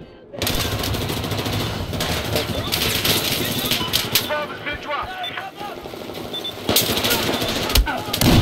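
MG4 machine gun bursts in Battlefield 4, loud rapid rattling fire with explosions and battle noise throughout, with voices talking over the chaos.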